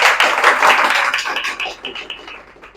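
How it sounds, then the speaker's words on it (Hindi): A crowd at a business gathering claps hard for their seniors and the company, a dense, loud wash of many hands that slowly thins and fades over about three seconds. "पहले हमारे सीनियर और सिस्टम कंपनी के लिए जोरदार ताली हो जाए।"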